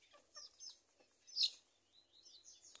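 Backyard chickens, including common and crested hens kept with bantams and pigeons, give soft scattered clucks and chirps, faint and intermittent with one brief louder call.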